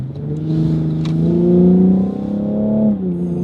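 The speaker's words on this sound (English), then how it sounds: "Because this is a pretty loud exhaust, considering it's only a 3-liter V6." A loud 2021 Cadillac CT5-V 3-liter twin-turbo V6 revs steadily with a deep, rumbling exhaust note, rising and dipping slightly as the throttle is held, close by.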